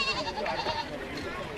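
A goat bleats in a remote Himalayan village just before being sprinkled with holy water for a ritual sacrifice, a short wavering cry heard close and fairly faint over background noise.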